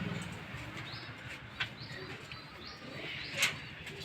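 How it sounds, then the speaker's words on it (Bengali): Three pairs of caged pigeons give soft, low cooing with a few faint chirps and light rustles nearby, quiet and intermittent throughout. "আমার খাঁচায় কিন্তু 3 জোড়া কবুতর অলরেডি নিয়ে আসছি"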